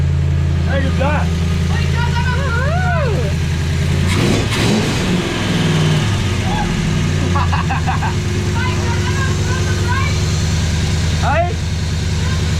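A freshly started car engine runs loud and close, idling roughly with a few sharp revs blipped midway, while voices talk excitedly over it throughout.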